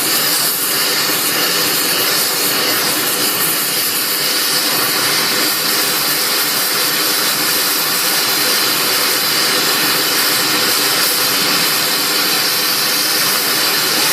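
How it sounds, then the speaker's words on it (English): A torch flame heats an axle perch with a loud, continuous roaring hiss that holds steady and close throughout, with no talk over it. "We want to warm this up in here."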